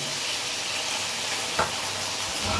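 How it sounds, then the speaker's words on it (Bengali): Whole prawns frying in very hot oil give a dense, steady sizzle close by, with one brief sharper clatter partway through and no talking. "এই যে পুরো চিংড়ি মাছটা এবার লাল লাল করে ভেজে নেব।"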